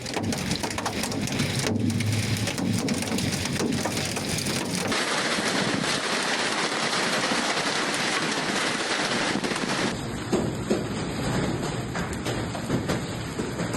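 Heavy rain pours steadily throughout a severe hailstorm in Islamabad, a dense continuous wash of loud downpour with no voices.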